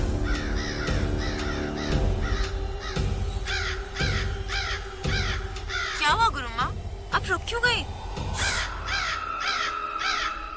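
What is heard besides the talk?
crows cawing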